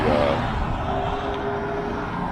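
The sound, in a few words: cars driving past on a nearby road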